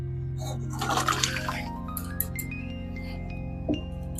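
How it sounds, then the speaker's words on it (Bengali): Koi fish curry with new potatoes is poured from the cooking pot into a serving bowl, a short wet splashing rush in the first second and a half, followed by faint drips and a light clink over steady background music. "তো বন্ধুরা এবার গামলায় ঢেলে নেব।"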